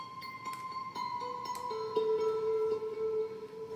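Soft, airy GarageBand 'Zen Garden' synth tones with sustained chimes and gentle tonal notes layered over a faint hiss, calm and steady throughout.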